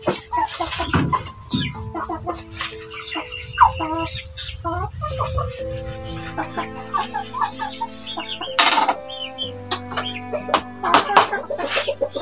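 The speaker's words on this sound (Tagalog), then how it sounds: "Pakainin ko sa aming manok" Several chickens cluck close by in short, irregular bursts, with occasional louder squawks and some scattered background noise.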